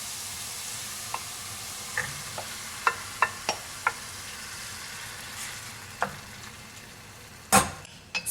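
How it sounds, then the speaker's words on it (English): Tomato frying in a hot pan for stuffed eggplant, a steady quiet sizzle broken by scattered clicks and scrapes of a spoon stirring, with a louder clatter near the end. "now I'm going to go ahead and add all of my tomato"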